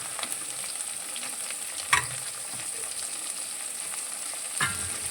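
Tomato and okra pieces cook in a pan with turmeric, a steady faint sizzle running throughout, broken by two brief louder scrapes of stirring.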